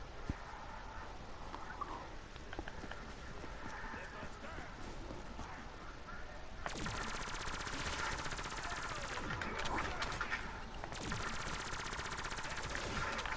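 Gunfire from a gun in a first-person shooter video game: rapid automatic bursts, louder and denser in the second half, under a broadband game soundscape with no speech.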